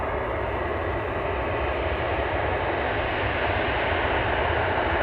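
Steady, loud aircraft engine roar as a jet airliner taxis at Hakodate airport in gusty weather, a continuous broadband drone with no breaks and no voices.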